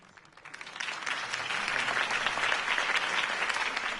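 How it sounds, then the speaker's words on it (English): A video game crowd applauding, building quickly from a quiet start into sustained, dense clapping that holds steady at moderate volume. "could have heard that applause"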